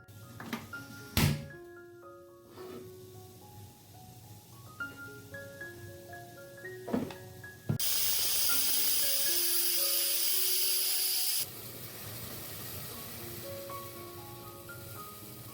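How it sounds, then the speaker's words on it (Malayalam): A pressure cooker hissing loud steam while mutton biryani cooks, a harsh continuous whistle-hiss lasting a few seconds and then dropping away, with clinks and a musical jingle in the background before and after. "കുക്കർ അടച്ച് വേവിച്ചെടുക്കാം കേട്ടോ. 2 ഫിസിൽ കേൾക്കണം കേട്ടോ"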